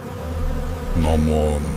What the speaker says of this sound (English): The furious bees still swarm overhead.